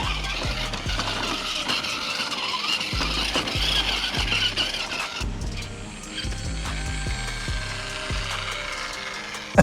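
An Axial Deadbolt RC crawler climbs a dirt hill over rocks, roots and loose dirt, its electric motor whining and gears clicking, with repeated knocks and scrapes as the tires grip.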